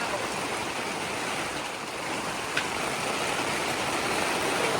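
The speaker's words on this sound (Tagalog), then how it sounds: "Napakalakas na ulan guys" A steady, dense hiss of heavy rain drums continuously on a camping tent at close range, with no pauses or breaks.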